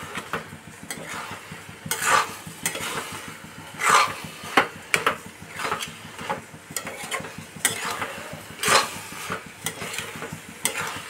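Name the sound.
mixing mashed cabbage with mustard oil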